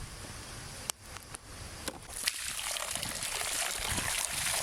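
Nalleru (veld grape) stems get rinsed in water, a soft continuous trickle and splash with a few sharp clicks of handling, fairly close and low in level.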